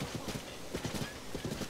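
In the Zelda: Tears of the Kingdom video game, a horse's hooves clip-clop in quick clustered groups of steps, fairly soft and close, with a brief whinny-like sound among them.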